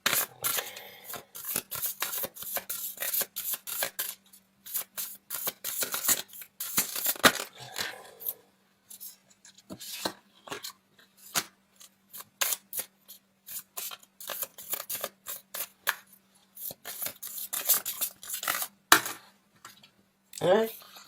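Tarot cards are shuffled and drawn by hand in a close, quiet room, giving a rapid series of papery flicks, slaps and rustles. Bursts of dense shuffling alternate with sparser single snaps over about twenty seconds.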